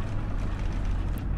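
Electric bus in the driving simulator The Bus accelerating hard along a city street, a steady low motor drone with faint whine carrying throughout, continuous and fairly loud with no voices.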